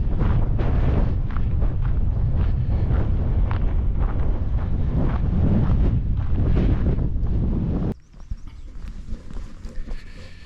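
Strong wind buffets the microphone on exposed Darwen Hill near Darwen Tower in Lancashire, a loud, steady roar for about eight seconds before dropping sharply to a lighter gusting.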